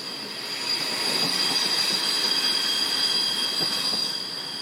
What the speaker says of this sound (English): as the train screeched to a stop